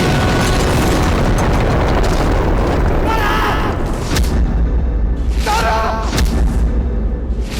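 A loud, sustained booming roar like a big explosion fills the clip, dense and rumbling, with voices shouting faintly amid the blast.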